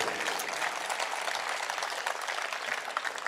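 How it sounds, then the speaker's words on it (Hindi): A crowd claps loudly for a patriotic poetry recitation, a dense, brisk burst of many hands lasting a few seconds with no speech over it. "तो एक बार जोर से तालियां उठाइएगा"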